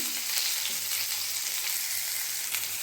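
Chopped garlic, onion and small potato pieces fry in oil tempered with nigella seeds and a dried red chilli, giving a steady, dense, close sizzle with a few faint stirring scrapes and no voices.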